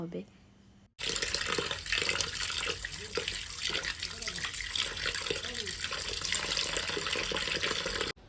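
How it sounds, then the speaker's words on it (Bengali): Tap water gushes continuously into a sink as cut pieces of koi fish are rinsed clean, a loud, steady splashing flow that starts abruptly after a quiet moment, with a voice talking over it. "ভালো করে পরিষ্কার জল দিয়ে ভালোভাবে ধুয়ে নিতে"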